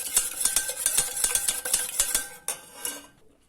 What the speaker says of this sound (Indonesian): Lalu kita kocok sampai tercampur rata.